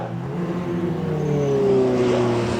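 A race car laps the circuit at Donington Park during a classic-class race, its engine droning loud and steady with a rising rev as it passes.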